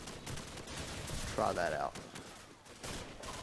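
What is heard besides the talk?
gunfire from a gun in the video game Modern Warfare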